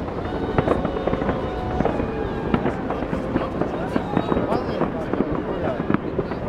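A fireworks display with a dense, continuous barrage of crackling bursts and sharp pops, loud and close, with no break across the whole stretch.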